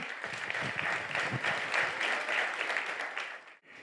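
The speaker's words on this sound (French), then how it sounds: "Je vous inviterai maintenant à applaudir nos finalistes de la catégorie tourisme." Sustained applause from an audience honoring tourism category finalists at a chamber of commerce awards ceremony, a dense and steady wash of clapping lasting several seconds before tapering off abruptly.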